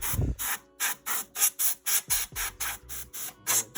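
A can of compressed air sprays dust out of a PS4 console (CUH-1001A), fired in about a dozen short, evenly spaced hissing bursts, loud and close, with faint clicks between them.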